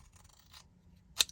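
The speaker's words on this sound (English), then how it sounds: "let me get my longer scissors, because it's so much easier to trim" Long scissors trim the outer edge of a paper card, with faint rustling and soft snipping followed by one sharp, close cut near the end in an otherwise quiet room.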